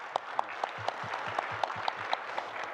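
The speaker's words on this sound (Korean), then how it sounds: "여러 회원 여러분들 우리 김동정 변호사님께 여기 안 계십니다만 박수 한번 보내주시면 어떻겠습니까?" An audience at an academic conference claps in steady, evenly spaced beats. The applause is fairly faint and comes from a modest crowd.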